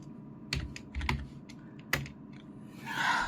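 A short burst of typing on a computer keyboard while entering a root password on an Arch Linux machine: a few close, sharp key clicks in irregular rhythm, with no voices.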